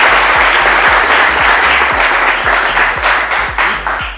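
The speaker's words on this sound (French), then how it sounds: "On peut les applaudir," Steady applause from a school audience at a televised quiz final between two lycées in Grand-Bassam, loud and sustained throughout without a break, beginning to taper slightly toward the end.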